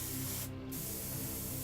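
Thin orange paint sprayed as a glaze over a red-painted lava-effect miniature base, a steady close hiss running throughout that briefly thins out in the upper range, with no talking.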